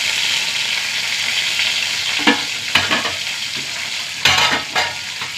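Dried red chillies and curry leaves frying in hot oil for cabbage thoran, a steady close sizzle broken by several sharp crackling bursts and stirring scrapes, no talk.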